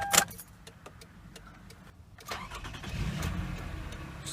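A 2005 Toyota Highlander V6 cranks and catches with a sharp burst, followed by a steady low engine rumble that swells near the end and settles into an idle; a brief jingle of keys comes right at the start, and no one speaks.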